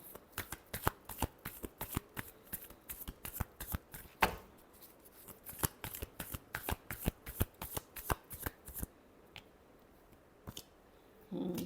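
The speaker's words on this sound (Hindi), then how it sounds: "last shuffle" Tarot cards being shuffled, sounding as a rapid series of crisp riffling snaps in quick rhythmic bursts, close and fairly quiet, with brief pauses before the sequence trails off.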